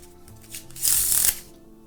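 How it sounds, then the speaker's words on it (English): A quick riffle of playing cards being shuffled, a crisp fluttering burst lasting about half a second, close and fairly loud over quiet room tone. "all I have to do to find your card is shuffle it once"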